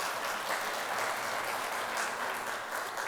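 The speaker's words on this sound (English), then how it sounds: "A big round of applause for the speakers and all of us." Steady applause from an audience after speakers at an event, a continuous even patter of clapping at moderate level with no talk.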